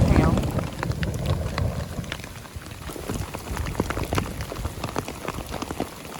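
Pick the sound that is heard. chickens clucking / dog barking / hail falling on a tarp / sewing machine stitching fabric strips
hail falling on a tarp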